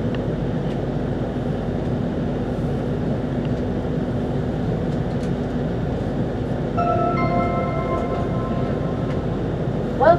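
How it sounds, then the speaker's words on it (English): Steady rumble of a Virgin Pendolino train running, heard from on board a service bound for Liverpool Lime Street via Crewe, a continuous low roar with faint rising tones near the end. "Just boarded the 10:25 Virgin Pendolino service for Liverpool Lime Street"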